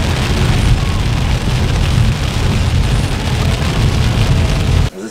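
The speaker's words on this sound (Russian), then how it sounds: "Пошел дождь" Rain falls hard on a roadside surface outdoors, a dense, loud, steady patter with a rumbling low end, which cuts off abruptly near the end.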